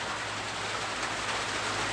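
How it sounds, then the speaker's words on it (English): Steady, dense hiss of rain falling outside a home, continuous and fairly loud, with no breaks or distinct drops and no voices over it. "I hope you can clearly hear me right now because it's raining"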